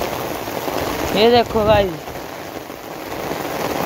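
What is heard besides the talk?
heavy rain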